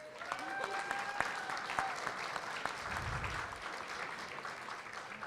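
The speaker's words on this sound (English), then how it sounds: "I want you to give her a round of applause." Audience members at a district town hall meeting give a steady round of applause. The clapping is even and fairly soft, heard from a distance in a large room, with a few brief tones ringing over it.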